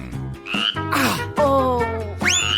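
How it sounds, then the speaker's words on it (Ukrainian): Loud, close croaks from a frog, several varied gulping and warbling calls in quick succession with pitch swoops, heard alone without talk. "Твоя жаба знову поскакала."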